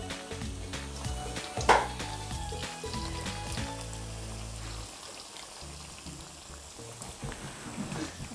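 Cauliflower pakoda frying in hot oil, a steady close bubbling sizzle with crackling pops and one sharper spatter near the start.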